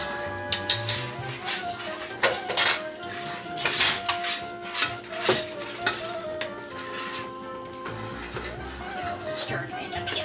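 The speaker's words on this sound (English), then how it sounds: "just take your spoon down and stir up from the bottom" A spoon scrapes and clanks against a pot while stirring fudge, in irregular metallic knocks and scrapes close by, with people talking over it.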